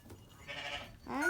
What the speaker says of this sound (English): Got some cute little lambs playing in the barn this morning.